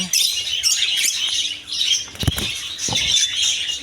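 Lovebirds in a bird-house aviary at Kashinathpur chirp in a dense, continuous high twitter, with bursts of wing flapping and fluttering close by; no voices.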